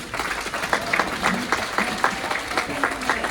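Conference audience applauding during a morning award session and keynote address, a steady wash of many hands clapping that holds evenly for a few seconds without talk over it.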